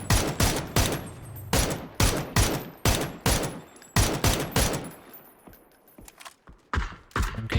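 Rapid bursts of gunfire from a PUBG esports match, mixing MK12 rifle shots and other weapons, crack out in quick repeated volleys across the whole stretch, loud and close with brief gaps between strings of shots.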